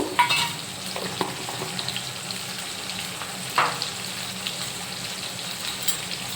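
Onions and tomato frying with salt in a pan give a soft, steady sizzle, with a few sharper stirring scrapes near the start and again midway, moderately quiet throughout.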